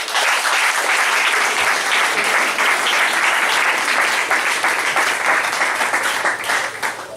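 A church congregation applauds steadily throughout, a dense, loud wash of many hands clapping that holds without a break, with no talk over it.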